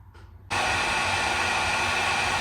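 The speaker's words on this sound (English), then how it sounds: "now that we got the blue wires hooked up, we're gonna go ahead and heat shrink those" Heat gun switching on and blowing a steady, loud hot-air roar to shrink heat-shrink tubing over wires on a 1990 Sea-Doo SP jet ski, continuing unbroken after the click of starting.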